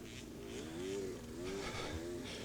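A motorcycle engine drones at a distance, its pitch rising and falling in a few revving swells, during a slippery morning motorcycle race in Mont-Laurier, Quebec.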